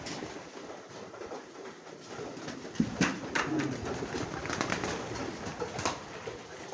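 Blue Bar homing pigeons cooing close by in a loft, soft repeated coos and rustling over a low background rumble, no talking.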